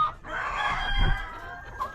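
Chickens in a coop during feeding time, a rooster crowing with clucking fowl, one continuous close call lasting about two seconds.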